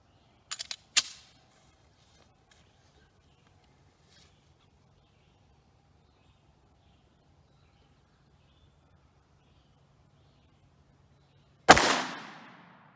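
A .40 caliber handgun fires 165 gr Hornady Critical Defense rounds: a sharp, loud shot near the start with a quick echo, a long quiet gap, then a second loud, close crack near the end that decays briefly.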